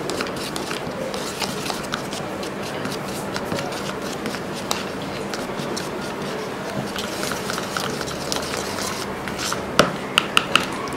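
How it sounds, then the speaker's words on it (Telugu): Toothpaste, tomato juice and lemon paste are mixed together by hand, giving a soft, continuous rubbing and scraping that stays close and even, broken by a few sharp little taps near the end. "ఇలా ఈ మూడు వేసుకున్న తర్వాత దీన్ని బాగా మిక్స్ చేసుకోవాలి"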